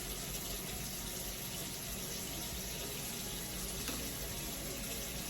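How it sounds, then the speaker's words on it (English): Hot water pours steadily from a tap in a constant gushing hiss, unbroken for several seconds, fairly close with no voices. "You can hear the water running."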